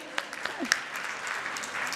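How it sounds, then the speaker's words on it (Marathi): Audience applause in a hall at an opening ceremony, a short burst of clapping with a voice faintly over it. "एकदा जोरदार टाळ्या होऊ द्या"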